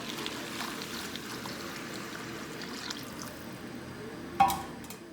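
A little water poured into a pot of cassava cooking for Ugandan katogo, a soft steady liquid pour and trickle at moderate level, with one brief sharper splash or clink near the end.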